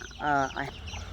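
Chickens in a flock with diarrhea give a brief, close, throaty cluck, followed by a softer second cluck over faint background noise.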